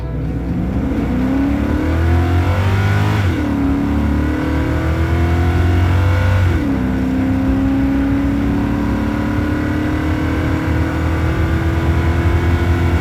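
A Mercedes-Benz 500E W124 V8 revs loudly and up close, its pitch climbing, dropping back twice at roughly three and six seconds, then holding a steady high drone with no talking.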